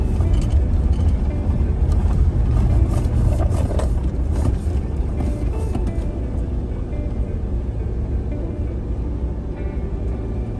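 A vehicle grinds up a mountain road toward a gem mine, its engine a steady low rumble with scattered rattles and knocks from the rough track, continuous and fairly close.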